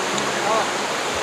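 River water near Curug Lalay waterfall in Cihanjuang, Cimahi rushes in a steady, broad hiss that stays loud and even throughout, with faint voices beneath it.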